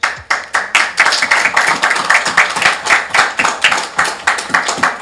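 Board meeting audience giving hearty, continuous applause, many hands clapping close and loud for about five seconds with no talk over it.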